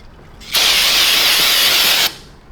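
A can of brake cleaner sprays in one loud, close, steady hiss lasting about a second and a half, starting and stopping abruptly in a garage during an oil change on an Acura NSX.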